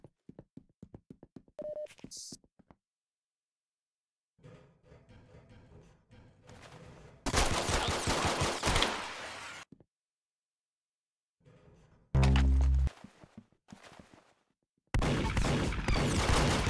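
Gunfire in Roblox Arsenal, a 1v1 match: short loud bursts of shots separated by silent gaps, with one heavy thump partway through and a few faint talking fragments.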